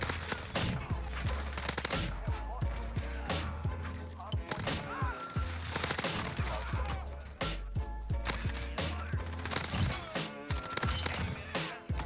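Rapid bursts of automatic gunfire from a video game gun, dense and continuous near shots with sharp repeated cracks throughout, with talk faintly underneath.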